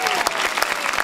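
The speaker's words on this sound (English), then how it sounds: "Big round of applause," An audience gives a big round of applause at an anniversary celebration performance, dense clapping filling the short moment.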